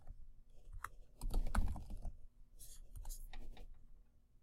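Light tapping on a computer keyboard comes in brief bursts of quick keystrokes, steady and fairly close.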